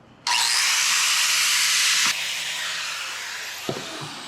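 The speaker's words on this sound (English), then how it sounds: "And then I'll slick that all up with the flapper." A flap disc grinder smooths TIG welds on steel rear shock spacers for a 1931 Ford Model A hot rod, a loud, steady high whine that starts abruptly and then drops to a lower, fading spin-down.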